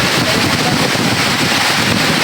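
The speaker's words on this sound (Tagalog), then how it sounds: "Yan, lakas ng hangin dito tol, ulan." Strong storm wind and rain battering a house during a typhoon, a loud continuous broadband roar with gusty buffeting against the microphone, steady throughout with no clear speech.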